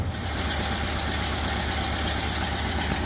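A 1930 Ford Model A engine idles after its air-fuel mixture has been adjusted, running close and loud with an even, rapid knocking chug that holds steady throughout.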